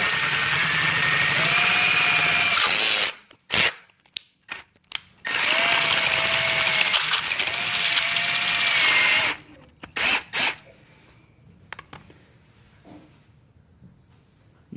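A power drill bores a hole into a screwdriver ratchet part, whining loudly and close in two long sustained runs broken by short stop-start bursts, then trailing into quiet handling noises.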